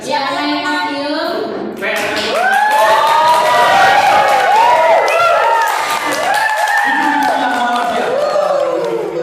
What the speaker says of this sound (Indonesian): tepuk tangan buat Bapak Ibu